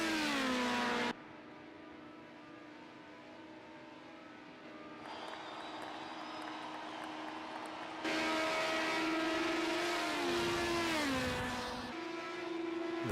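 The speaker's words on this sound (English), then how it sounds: "the scream of these engines as they fly past our camera" Touring car engines in a race scream as the cars pass one after another, each a loud high-pitched wail that rises and falls in pitch, with gear changes, close to the trackside and with no talk.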